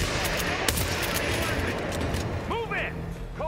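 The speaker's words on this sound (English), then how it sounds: "Someone's firing a weapon." Rapid gunfire rattles through a Hitman Freelancer mission in a dense, continuous barrage, with voices talking over the shooting and a few chirpy tones near the end.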